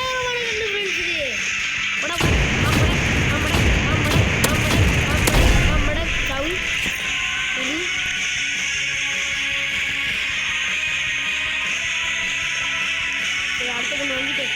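Video game gunfire erupts in a dense burst of rapid shots for a few seconds, loud and close, then fades back to steady game ambience and music, with a voice talking.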